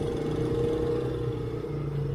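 A motorcycle with a faulty exhaust that has turned tinny runs at a steady idle, giving a close, continuous mid-pitched hum with a faint rattle. There are no rev changes.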